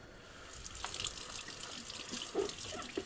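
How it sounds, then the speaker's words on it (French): Tap water runs steadily over an aubergine being rinsed in a kitchen sink, a soft continuous splash with a few brighter drips and splatters, close and fairly quiet. "nous allons travailler notre aubergine. Donc on va la rincer."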